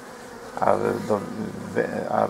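Honeybees buzz at a hive in a low, steady drone, while someone talks over them in clear bursts.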